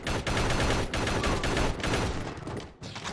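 Gunfire from the video game Urban Chaos: Riot Response, with dense, loud volleys of shots rattling almost continuously, broken by a few short gaps.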